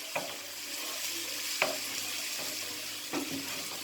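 A pan of food being stirred from the bottom up, with a steady frying hiss and three sharp scrapes of the spoon spaced about every second and a half, close and moderately quiet.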